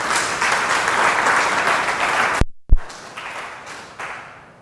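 A congregation at an evangelical Bible class on the Gospels applauds in praise of the Lord. Loud, dense clapping is cut off by a brief silent break and a sharp knock, then resumes more softly and fades toward the end.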